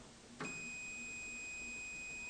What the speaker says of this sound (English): hopefully you get a continuity alarm